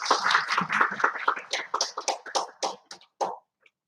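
Clapping at an academic conference opening, a handful of people applauding in a quick rhythm that thins out and slows into a few scattered claps before stopping, fairly close and sparse rather than a large crowd.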